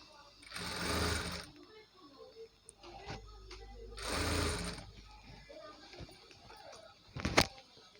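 Sewing machine top-stitching a Punjabi dress top, running in three loud bursts of rapid stitching with short pauses between, plus a brief sharp burst near the end amid light handling noises.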